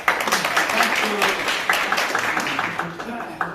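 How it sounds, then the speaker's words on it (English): A crowd at a Middlesbrough hackney carriage drivers' meeting bursts into steady, close applause that keeps going for several seconds at full level. "I think we all need a round of applause"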